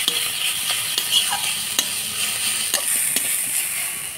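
Thankuni leaves frying in a pan, a steady close hiss and sizzle with occasional light clicks of stirring against the pan.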